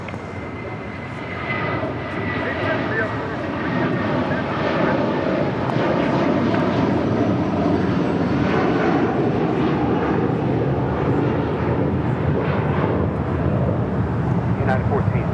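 Airliner departing LAX, a steady broad engine roar building in the first seconds and holding loud and sustained to the end, with radio-style talk faintly present.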